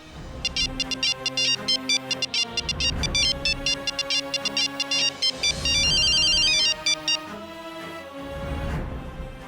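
A mobile phone ringtone plays a bright, repeating electronic melody in several looping phrases, loud and clear with no voices over it.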